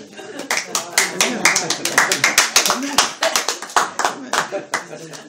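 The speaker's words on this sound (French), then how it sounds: "applaudir de temps en temps quand même" Scattered clapping from a small audience at a French-language Torah lecture, sharp distinct claps in an irregular rhythm, fairly close, with a little talk in between.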